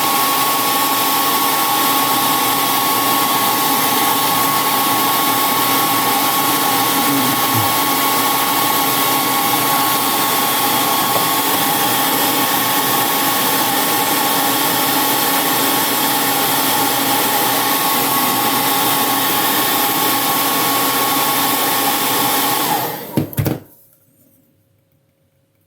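A heat gun warms a model part to soften it, blowing as a loud, steady whooshing roar with a faint tonal whine for over twenty seconds before cutting off abruptly into near silence.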